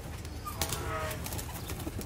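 Rare VIP Sialkoti pigeons coo softly in short, low calls, close by and fairly clear over a steady background hiss.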